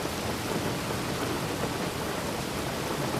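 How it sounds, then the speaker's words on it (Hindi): Steady, heavy rain pours down with a dense, even hiss throughout, no voices or other sounds breaking through. "लेकिन बाहर बारिश हो रही है।"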